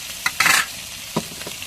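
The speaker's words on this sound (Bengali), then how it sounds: "এটা ভালো করে একটু নেড়ে নিয়েছি।" Fish curry of bata fish with ridge gourd is stirred in a frying pan: two short scraping strokes, close and fairly loud, with a softer scrape near the end and a quiet background otherwise.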